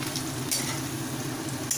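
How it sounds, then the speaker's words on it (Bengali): Thin, salted potato slices fry in hot oil, giving a steady, continuous sizzle with occasional louder crackles and no talking. "দেখুন আলুগুলোকে ভালোভাবে ভেজে নিতে হবে।"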